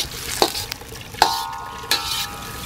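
Garlic and onion sautéing in a wok over a wood fire, with a few sharp stirring scrapes and clatters of the utensil against the metal over a faint, steady sizzle, close by and without talk.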